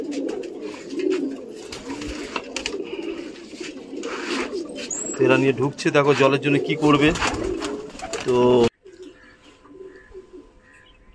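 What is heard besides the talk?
young pigeons cooing on rooftop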